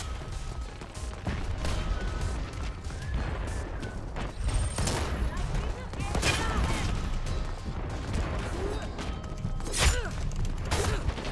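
Gunfire in the online shooter Dirty Bomb: sharp shots and impacts scattered across a busy, noisy battle mix, with several louder cracks standing out at irregular intervals.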